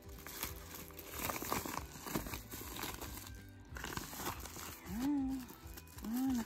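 A package holding five bottles of essential oil is torn and unwrapped, producing a steady run of crinkling and crunching plastic and paper up close, with a voice sounding briefly near the end.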